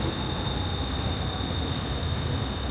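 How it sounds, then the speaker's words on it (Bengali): A Bangkok metro train pulls into an underground station, producing a steady, loud rumbling roar with a thin high whine sustained throughout, and no voices. "আমাদের ট্রেন চলে এসেছে।"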